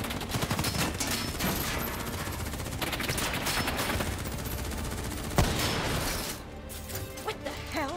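Heavy gunfire in the Call of Duty Black Ops 3 mission In Darkness: dense, continuous bursts of automatic weapon fire with crashes and impacts, loud and close, easing into sparser shots near the end.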